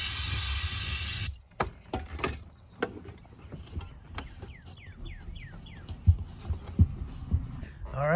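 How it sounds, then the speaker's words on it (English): Brake cleaner aerosol sprays in several short hissing bursts into a plastic fuel tank on a project car, close and fairly loud, with clanks and handling noises between the sprays. "Just gonna use some brake clean."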